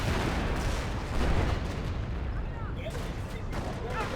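Anti-tank guns pound a Firefly tank in the strategy game Company of Heroes, a dense run of heavy gunfire and booms rolling steadily and loudly throughout, with a brief surge of louder blasts partway through.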